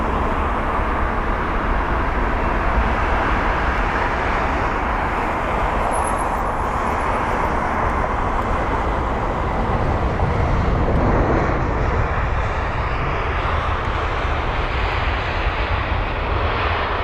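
A British Airways airliner at London Heathrow sends out a strong, continuous engine roar, loud and near, that holds steady over the whole stretch with a slight rise late on, and no voices.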